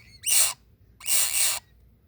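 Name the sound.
baby woodpeckers calling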